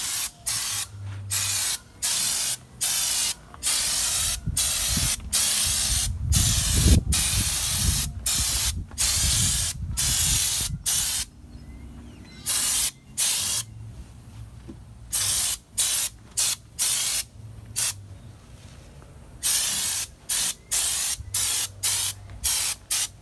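Spray can laying a second coat of paint on a two-tone raptor-lined Trailblazer, heard as a long series of close, loud hissing bursts, each a second or two long with short gaps between, steady and rhythmic with no talk.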